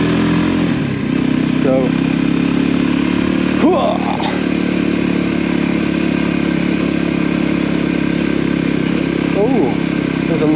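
A Voge 300 Rally motorcycle rides a rough, slippery green lane in England, its steady engine drone running loud and continuous throughout with some clatter, while a rider's voice speaks briefly over it.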